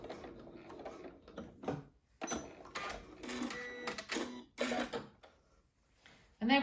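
A sewing machine stitches elastic into knit fabric in short, quiet mechanical bursts of rapid needle clatter, separated by brief pauses.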